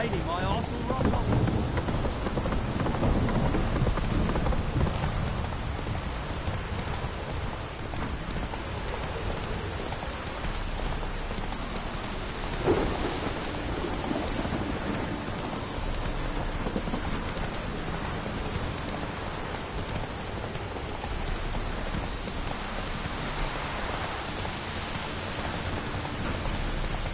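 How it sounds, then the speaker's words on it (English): Steady heavy rain pours throughout a video game storm, with thunder rumbling low underneath and one sharper crack near the middle; the downpour stays dense and continuous. "Don't stop raining, my arse will rot off."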